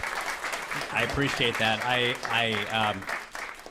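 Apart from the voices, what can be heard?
audience applause at a panel event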